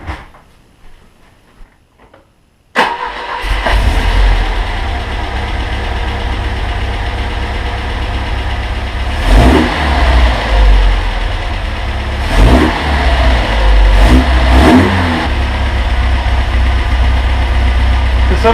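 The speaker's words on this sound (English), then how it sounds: "Some of you that may just sound like a motor, but to me it sounds exactly like sweet, sweet music." A Volvo 1800S engine starts after a carburetor rebuild, settling into a steady, close, loud idle broken by several sharp revs that rise and fall, with no talking.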